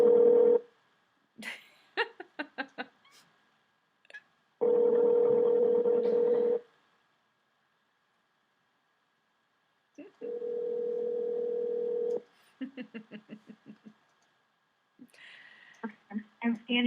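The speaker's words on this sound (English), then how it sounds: "I'm going to try calling you back again." Telephone call being placed back: steady dial tones in long bursts alternate with quick series of dialing beeps and clicks, loud and close, with silent gaps between.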